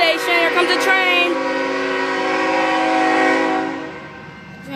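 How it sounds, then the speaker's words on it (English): Amtrak train arriving at Centralia station, its horn blowing a long, loud, sustained chord close by, with rail rumble underneath before it fades out. "Here comes the train."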